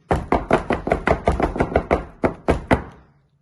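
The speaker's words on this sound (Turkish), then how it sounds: "Şöyle birkaç kere masanın zeminine vuruyorum kabarcıkları sönsün diye." A cake pan of hazelnut cake batter is rapped against a tabletop about a dozen times to pop air bubbles, each knock a sharp, close thud in a steady rhythm that slows toward the end before fading out.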